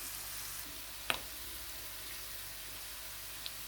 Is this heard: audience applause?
no